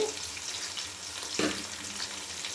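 Onions, carrot, potato, green chilies and peas fry in a pan for pulao while being stirred, a steady dense sizzle with one brief scrape of the spoon, close up.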